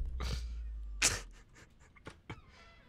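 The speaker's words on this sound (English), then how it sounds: "Someone's agitating my cat, I can hear them meowing, they're upset." A pet cat meows and cries a few times indoors, close and fairly clear, with short agitated calls spaced across a few seconds and no talking.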